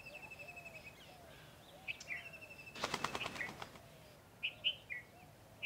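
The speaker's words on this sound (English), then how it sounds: "These are spotted doves." Spotted doves in a forest sanctuary at Point Calimere, with repeated soft calls and a brief burst of wing flapping in the middle, against faint outdoor background and other distant bird chirps.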